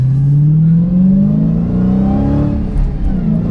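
Supercharger whine from a Dodge Challenger SRT Hellcat with a six-speed manual, heard from inside while driving: a loud, rising engine note with a steady whining tone that climbs in pitch, then dips briefly.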